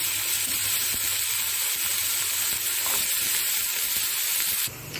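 Potatoes fry over browned onions in a pan for an Odisha-style samosa filling, giving a loud, continuous sizzling hiss that stays steady and then drops off abruptly near the end.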